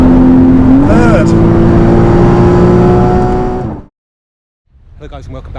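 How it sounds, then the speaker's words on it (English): A 981 Porsche Boxster GTS flat-six revving hard toward redline in third gear, a loud sustained engine note climbing for about four seconds before cutting off abruptly, followed by quieter sound. "bring this flat 6 out to the red line as far as we can go"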